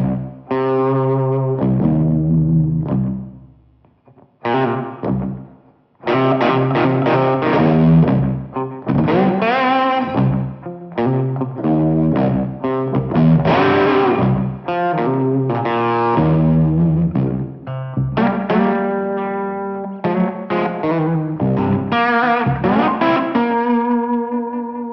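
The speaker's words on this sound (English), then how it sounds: "I wanted to have a slide guitar with humbuckers, and I think this sounds massive." Gibson R9 Les Paul played with a slide through humbucker pickups, loud and distorted with chorus and echo effects, sustained gliding notes and chords running continuously with a brief pause near the start.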